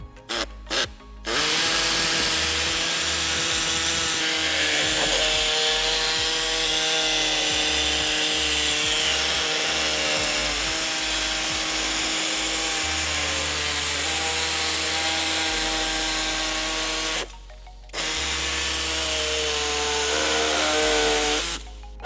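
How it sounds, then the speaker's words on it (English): An air saw cuts through the plastic underbody panel of a 2009 Toyota RAV4 during trailer hitch installation, a loud buzzing reciprocating rasp that runs almost continuously with two brief pauses. "We're going to cut out the end of this, following the rib as a guide, and we're going to be using an air saw"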